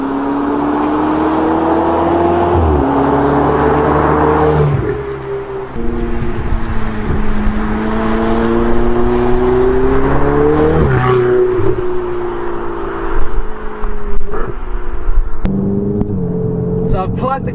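A Ferrari 488 GTB turbocharged engine revs hard and climbs through gears, pitch rising and dropping at each shift, loud and close with tire noise underneath.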